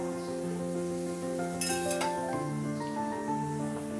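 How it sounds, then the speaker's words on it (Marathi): Ground spices of turmeric, red chili and coriander-cumin powder frying in oil in a pan while being stirred, with a soft steady sizzle and occasional metallic clinks of the spoon against the pan over a humming background. "आणि आता हे मसाले मस्त परतवून घ्यायचे."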